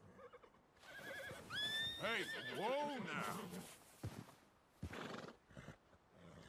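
An Arabian horse in the video game Red Dead Redemption 2 lets out a loud, rising-and-falling whinny lasting over a second, with snorts and shuffling around it and a voice speaking nearby.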